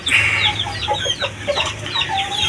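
Shamo gamecocks cluck and squawk nearby in a backyard breeding pen, a string of sharp, uneven calls with a faint rooster crow mixed in.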